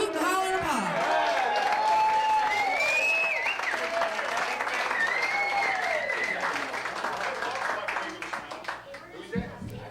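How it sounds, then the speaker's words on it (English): Crowd applause mixed with loud hooting, hollering and whistling for a performing band, a lively, sustained roar with whoops rising over the clapping, then thinning out toward the end. "Give them a nice round of hoot and holler and applause."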